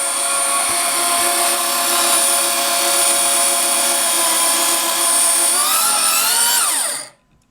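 A converted Skilsaw motor with a poorly designed rotor and a loose brush runs with a loud, high electric whine that holds steady, then rises and falls in pitch before cutting off abruptly near the end.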